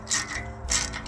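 Ratchet wrench tightening a bolt during brake work on a car, two quick close bursts of rapid clicking, one after the other.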